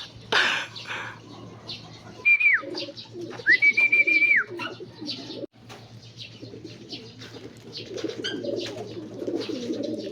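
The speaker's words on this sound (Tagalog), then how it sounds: "Ito mga kalapatids." Pigeons coo in a Philippine racing-pigeon loft, with soft repeated coos and a few sharp whistling calls over a steady low hum, plus occasional wing flutters and shuffling.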